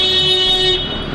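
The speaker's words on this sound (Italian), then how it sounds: "Non è carino suonare il clacson." A car horn gives one sustained, steady honk lasting under a second, loud and close against a faint street background, with no talking.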